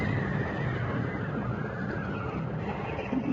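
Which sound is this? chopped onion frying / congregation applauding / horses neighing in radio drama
horses neighing in radio drama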